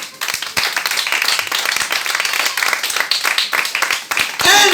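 A church congregation claps and applauds during a French-language sermon, a steady dense patter of many hands with a few sharper claps, close and continuous.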